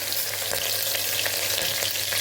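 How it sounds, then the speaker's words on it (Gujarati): Green chillies and cumin seeds fry in hot oil, a close, steady crackling sizzle with small pops, heard alone without talk. "જીરું ફૂટી જાય એટલે આપણે તરત લીલા મરચાં ઉમેરી દઈશું।"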